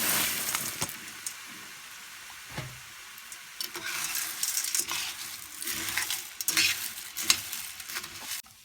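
Pasta frying and stirred in a pan of olive oil with pepper paste, spices and salt, a steady sizzle broken by scraping stirs and light clinks of utensil on the pan.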